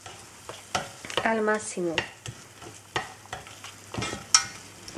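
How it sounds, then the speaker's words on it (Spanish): Sweet paprika being stirred in a hot frying pan, with a spoon scraping and clinking against the pan over a steady low sizzle, and a voice speaking briefly. "Le vamos a echar un poco de pimentón dulce y vamos a mover"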